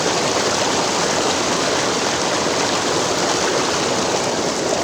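Water flows at Dudhia waterfall, a picnic spot, as a loud, constant, broadband rush that fills the whole clip with no breaks and no voices.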